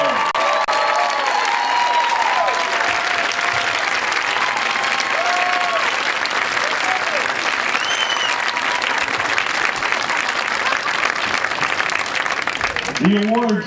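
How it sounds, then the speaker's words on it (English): A school crowd applauds the bands at a music competition awards ceremony, a loud sustained wash of clapping with some cheering and a few voices mixed in. "can we get one final round of applause for all the amazing bands standing before you today?"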